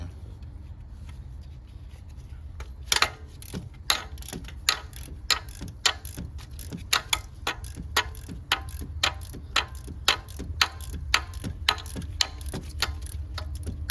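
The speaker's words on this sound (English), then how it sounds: "All right, so let's put a 12mm wrench here." A 12mm wrench works on a 2014 Toyota Camry during a water pump replacement, giving a rapid run of sharp ratcheting clicks close to the mic over a low steady hum.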